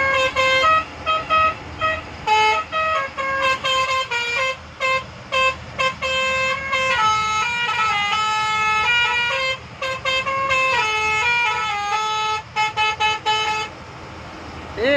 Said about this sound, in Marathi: तर मंडळी आता आपण ना हॉर्न एक एक चेक करत जाऊया